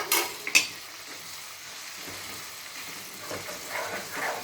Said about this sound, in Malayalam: കരിഞ്ഞു പോകാതെ ഒന്ന് വഴറ്റി കൊടുക്കുക